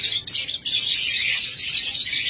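A master pair of lovebirds chirping, a close, loud, continuous stream of high, shrill tweets and chatter with only a brief dip near the start.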